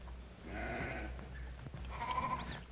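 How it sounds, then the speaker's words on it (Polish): Sheep bleating in a herd, with several drawn-out wavering bleats at moderate distance over a low rumbling background, one near the start and louder overlapping calls toward the end. "Gnajcie owce."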